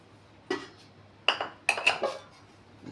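A few clinks and knocks of a lid being set on a bowl of chicken marinating in curd, lemon, salt, chili powder and turmeric, close by; several sharp taps spaced over a few seconds in a quiet kitchen.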